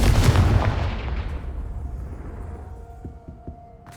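A Confringo fire spell blasts in Hogwarts Legacy on PS5 Pro, a loud booming explosion that rumbles and fades over a few seconds, followed by faint clinking debris, with no talk.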